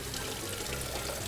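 Water pours steadily into a cup in a home kitchen, a continuous close splashing trickle with no talk.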